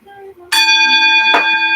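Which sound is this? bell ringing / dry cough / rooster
bell ringing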